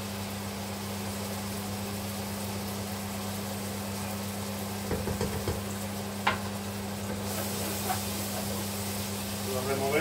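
Crushed tomato stirred into sautéed vegetables in a pan, a soft scraping and sizzle running steadily under a constant low hum, with a few faint clinks and shuffles midway.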